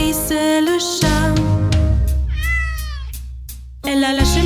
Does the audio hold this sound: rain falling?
no